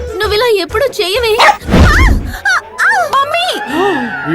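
A street dog barks and yelps, loud and close, with excited voices talking over the noise throughout.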